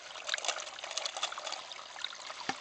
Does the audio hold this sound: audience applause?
no